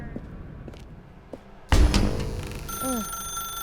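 A telephone rings in the video game The Stanley Parable, starting with a sudden loud burst and then sounding a bright, sustained electronic ring against quiet background ambience.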